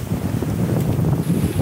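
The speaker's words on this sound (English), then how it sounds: "we're sailing along and we're getting a lot of wind shifts" A trimaran sailing through shifting wind near the Channel Islands, with a constant rush of wind buffeting the microphone and water noise around the hull, loud and close.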